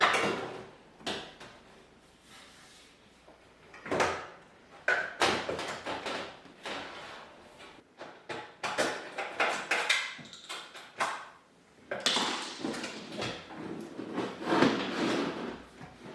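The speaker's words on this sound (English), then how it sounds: "You'll then be able to slide the front door panel down and away." The outer front door panel of a Bosch dishwasher slides down and off, giving a series of close plastic-and-metal scrapes, clicks and knocks at irregular intervals with short quiet gaps.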